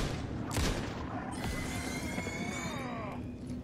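A few gunshots in Alan Wake 2 ring out amid dark game ambience, with sharp isolated cracks spaced apart followed by a lingering, fading metallic whine.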